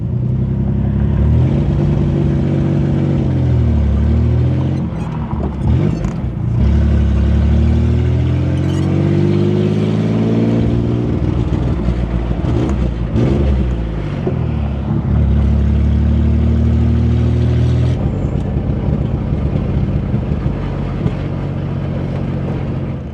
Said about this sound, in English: you can hear the car is actually pretty quiet now, which is surprising with all those exhaust leaks